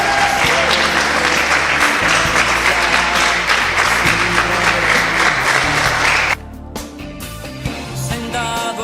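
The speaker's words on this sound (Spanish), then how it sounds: "Denle un fuerte aplauso al Señor." A church congregation applauds loudly at a Spanish-language worship service. The steady, dense clapping lasts about six seconds, then drops off sharply and gives way to quieter music.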